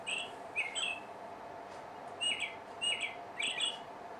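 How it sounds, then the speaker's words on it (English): Birds chirp and tweet in short bright phrases, a few calls repeating at intervals against a quiet outdoor background. "I hear the birds singing."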